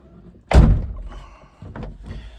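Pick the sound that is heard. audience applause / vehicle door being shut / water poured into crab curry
vehicle door being shut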